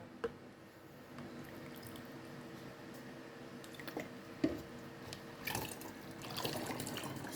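Water pours and trickles in short splashes and drips, fairly faint and close, with a steady low hum beneath and a brief louder splash midway and more gurgling toward the end.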